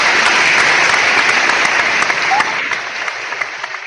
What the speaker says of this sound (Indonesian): Saya mohon tepuk tangan untuk seluruh.